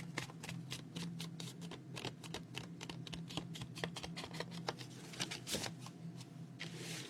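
Paper creased and folded by hand for a handmade art journal, a run of close crisp rustles and sharp crackling taps, quiet and without talk.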